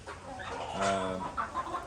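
Hens cluck and squawk nearby in short, rough bursts, with one louder drawn-out call in the middle.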